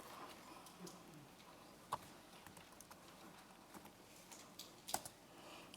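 Typing on a computer keyboard with an unfamiliar American layout, a quiet patter of scattered key clicks with a few sharper taps, close and alone with no talking.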